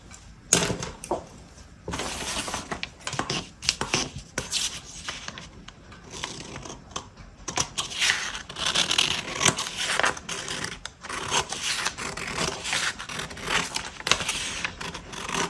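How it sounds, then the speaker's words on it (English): Scissors cut along a marked line on a paper sewing pattern during a forward shoulder adjustment, giving a long run of close, crisp snips and paper rustles in an uneven rhythm, with no speech. "We're going to cut along that line."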